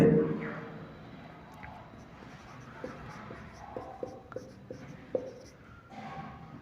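Chalk or marker writing on a board during a Class 12 physics lesson on the photoelectric effect: scattered short taps and scratches, fairly close, with a teacher talking over much of it.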